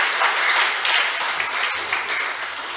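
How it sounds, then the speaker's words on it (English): Church congregation clapping their hands together during a worship service, a dense, steady wash of claps that stays loud and continuous throughout with no distinct individual beats. "Clap your hands to Jesus."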